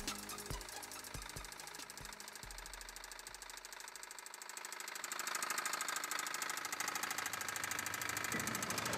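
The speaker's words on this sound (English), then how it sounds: "Yeah, you hear the knocking noise?" A car engine with a knocking fault runs steadily, a rapid metallic clatter that grows louder and denser after a few seconds, with several deep thumps at the start.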